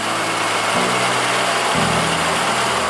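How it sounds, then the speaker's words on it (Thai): A Suzuki SJ413 engine idles steadily and loudly up close after a carburetor change, a constant drone whose pitch steps up slightly twice. "เปลี่ยนคาปูไปรอบเครื่องจะอยู่ที่ประมาณหนึ่งพันนะครับถึงพันรอบ"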